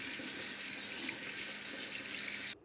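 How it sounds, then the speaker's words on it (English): Tap water runs steadily into a sink while cured wild goose meat is rinsed, a continuous close splashing hiss that stops abruptly at the end. "So let's get these things rinsed off."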